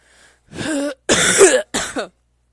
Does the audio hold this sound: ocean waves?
no